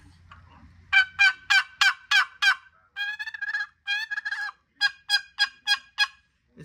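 A box call rapidly imitates fighting turkeys, with bursts of sharp, clucking yelps in quick rhythmic runs, close and loud, separated by brief pauses.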